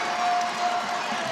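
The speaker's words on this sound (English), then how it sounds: "Crowd has been silent from the start. This is the only time they've been loud." A basketball crowd at a UConn vs DePaul game roars in a sustained wash of cheering noise, steady and broad throughout, with an announcer's voice faintly present.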